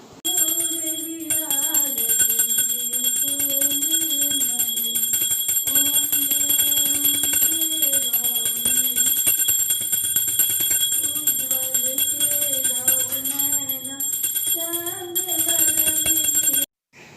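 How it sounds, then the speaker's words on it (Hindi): A small brass hand bell rings continuously through a Hindu aarti puja at a home Haritalika Teez festival, its bright shimmer steady under a woman's melodic singing of the aarti. "घंटी मैंने उन्हें बजाने के लिए दे दिया था।"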